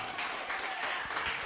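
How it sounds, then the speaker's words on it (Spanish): A church congregation applauds steadily at a moderate distance, a dense wash of clapping with no talk over it. "Un aplauso al Señor."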